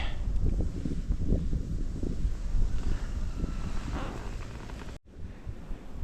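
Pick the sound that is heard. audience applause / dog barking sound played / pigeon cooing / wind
wind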